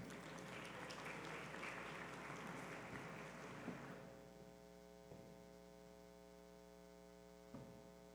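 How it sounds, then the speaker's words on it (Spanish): Strong applause welcoming a speaker at an oil and gas summit session, dense clapping for about four seconds over a steady electrical hum, then dying away to the hum alone. "Recibimos con un fuerte aplauso a Felipe Larraín."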